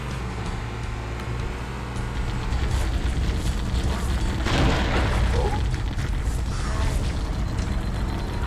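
A turret destroyed during a Halo game, a loud booming blast amid continuous heavy battle noise and rumbling gunfire, the explosion swelling briefly above the dense in-game din.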